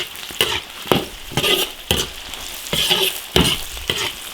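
A spatula scrapes and tosses Sichuan peppercorns, dried chilies and spices through hot oil with scallion, ginger, garlic and onion in an iron wok. Rhythmic stirring strokes rise over a steady close sizzle, with no talking.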